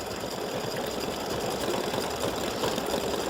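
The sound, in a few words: embroidery sewing machine stitching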